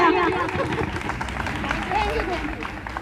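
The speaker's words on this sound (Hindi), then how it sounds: "एक बार उनके लिए जोरदार तालियां हो जाएगा।" The audience at a public speaking event claps for someone speaker, a fairly soft, short burst of applause mixed with crowd murmur that fades out gradually.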